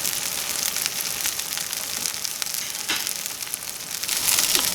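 Hemp seed encrusted ahi tuna steaks searing in oil, a loud, dense, continuous sizzle with fine crackling spatter, close up and steady throughout with no talking.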